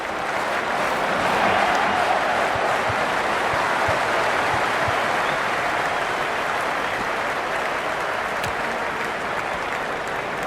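A cricket stadium crowd at a Sydney Sixers versus Melbourne Stars match roars continuously, a loud, dense wash of cheering and clapping with no breaks throughout.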